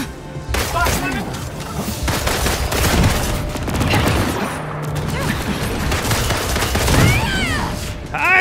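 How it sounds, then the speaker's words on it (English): Dense gunfire and explosive booms from combat in the video game Marvel's Avengers, with a grenade deployed, play loudly and continuously under faint game voices. "Deploy grenade!"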